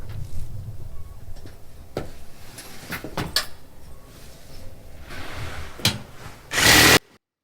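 A power tool cuts a plastic tote in half, following a center bar as a straight edge: scattered clicks and rasping bursts build to a loud, harsh grinding cut near the end before stopping abruptly.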